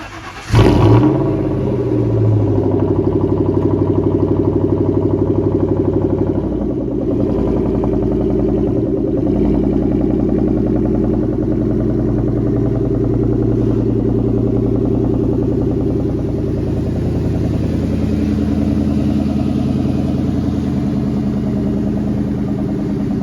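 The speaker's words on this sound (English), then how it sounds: "let's take the zinc yellow Mach 1 out for a drive." A zinc yellow Ford Mustang Mach 1 rumbles loudly after a sharp start, holding a steady, deep engine drone while driving for over twenty seconds, with no talking.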